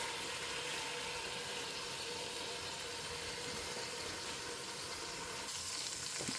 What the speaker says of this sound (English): Let them cook in the bottom of that dry pot for a while.